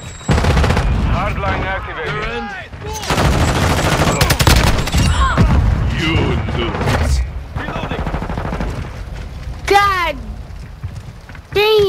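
Shotgun fire rings out in a video game, with bursts of loud blasts and clatter over busy game audio and a voice talking at times.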